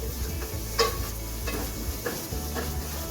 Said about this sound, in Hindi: सूजी को अच्छे से हमने हल्की फ्लेम पे भूनना है।